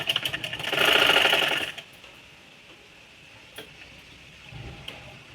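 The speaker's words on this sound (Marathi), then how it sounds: "ती कवर शिलाई करण्यासाठी." A sewing machine runs a short burst of cover stitching on fabric cut from an old saree for a dress, loud and steady for about a second, then stops, leaving faint ticks and handling noise.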